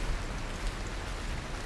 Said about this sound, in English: Okay, so now it's raining.